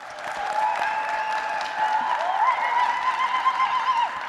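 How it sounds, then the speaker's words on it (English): Sustained applause from a crowd at a Métis Two-Spirit 2SLGBTQIA+ community gathering, a dense even roar of clapping with some cheering voices mixed in, continuing for the whole stretch. "let's give them a round of applause again"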